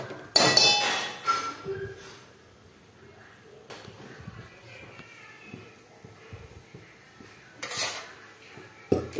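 A lump of butter is stirred in a pan on a gas flame while it melts down into ghee, with metal spoon clinks and scrapes at the start and again near the end and quieter scraping in between.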